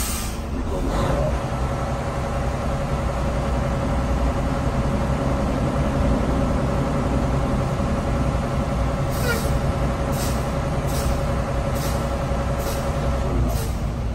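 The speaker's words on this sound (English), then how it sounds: "Now I'm gonna perform a tug test. I'm gonna check my trailer brake first." Automatic Class A truck in drive, tugging against its set trailer brakes: a steady, loud engine drone runs throughout, with faint clicking ticks near the end.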